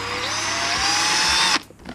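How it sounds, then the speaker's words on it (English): A power drill bores a pilot hole into an airsoft plasma pistol part, a loud, steady whine with a slowly rising pitch that holds for about a second and a half, then stops abruptly, leaving faint handling noise. "We're going to drill our pilot hole here."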